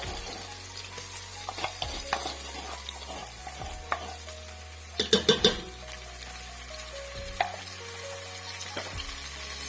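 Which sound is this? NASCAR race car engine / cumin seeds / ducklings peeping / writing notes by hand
cumin seeds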